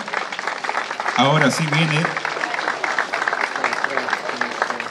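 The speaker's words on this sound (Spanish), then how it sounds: "aplausos, por favor." Sustained applause from a crowd at a marinera dance pageant crowning, dense and steady throughout, with a voice speaking over it briefly near the start.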